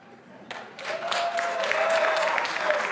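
Audience at a Rio de Janeiro mayoral runoff debate breaks into loud, sustained applause that swells after half a second and holds steady, with a faint tone running underneath.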